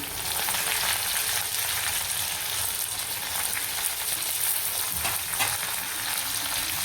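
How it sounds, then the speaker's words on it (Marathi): Curry leaves and ginger-garlic paste crackle in hot oil for a mixed vegetable dish, making a dense, even sizzle and spatter that holds steady and close throughout, with no voices. "कढीपत्ता छान कडकडला बघा."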